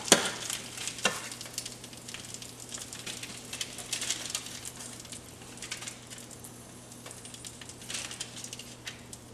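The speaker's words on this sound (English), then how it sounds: "let's go ahead and transfer them to our marinara sauce" Browned meatballs are pushed into simmering homemade marinara sauce, giving a steady low bubbling sizzle with soft stirring and scraping sounds throughout and a small clatter near the start.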